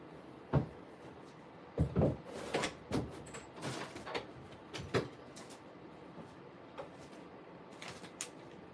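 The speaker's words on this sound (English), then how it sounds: "Close this door." A door is handled and pushed shut with a series of knocks, slides and clunks, close and sharp, then a few softer taps trailing off.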